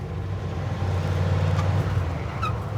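A Ford truck engine drones steadily and low as it pulls through the gears, a continuous close rumble with no sharp breaks.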